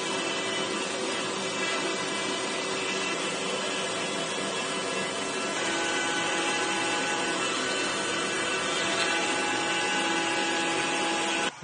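A FoxAlien Masuter Pro CNC engraver carves a guitar body, its spindle and cutting producing a steady, loud, noisy whir that continues unbroken throughout without speech.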